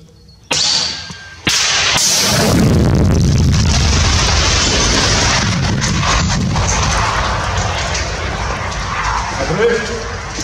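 A sharp anti-tank guided missile launch crack is followed by a heavy, rumbling blast that rolls on and slowly fades, with noisy outdoor rumble lingering afterward.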